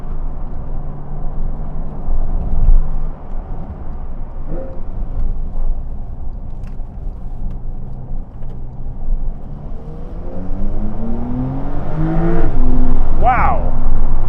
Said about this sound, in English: see if we can get a bit more engine noise